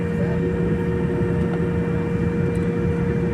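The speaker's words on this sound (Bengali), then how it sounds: "আমাদের বিমান উড্ডয়ন করছে" Loud, steady roar of jet engines heard from inside an Oman Air plane taking off, a constant deep drone with a faint whine above it.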